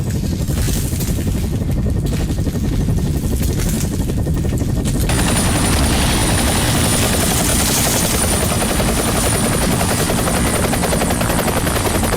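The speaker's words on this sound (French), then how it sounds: "Hélico dehors!" Helicopter flying outside during a horror film scene, a loud steady thumping rotor chop with a constant engine whine that rises and brightens partway through, dominating the whole clip.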